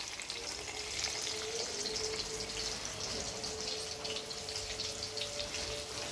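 Onions sizzle steadily in hot oil tempered with fennel seeds for a taro root curry, a constant close frying hiss without pause.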